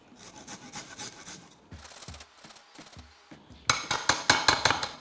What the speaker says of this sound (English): Grate in ginger, and grate in some garlic.